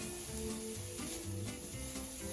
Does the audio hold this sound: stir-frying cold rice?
yes